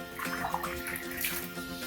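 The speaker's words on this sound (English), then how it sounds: "So just pulling out all the dirty water," Dirty water and old leaves are pulled out of a garden fountain, a continuous close sloshing and gurgling of water with small splashes throughout and no voices.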